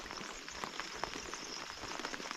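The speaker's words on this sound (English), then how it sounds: "In typical fall Gulkana fashion, started to rain pretty good" Steady rain falls on a river in Alaska during a solo float trip, a soft, dense hiss with scattered faint patters throughout and no voices.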